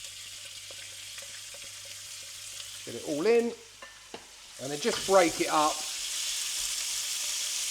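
Steady hiss of minced meat frying in vegetable oil in a hot wok for Thai pad kra pao, with a person speaking briefly over the sizzle and scraping stirs in the middle.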